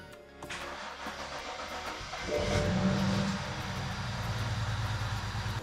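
A BMW N54 engine, its valves freshly cleaned, cranks and catches on its first start, rising from a whirring crank into a loud, steady idle that settles and keeps running.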